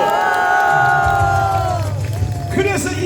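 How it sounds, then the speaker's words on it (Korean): A large outdoor rally crowd in Gwanghwamun cheers and claps, a loud sustained roar of voices with shouts rising over a dense babble. "그러면 이승만 대통령한테 박수 한번 합시다."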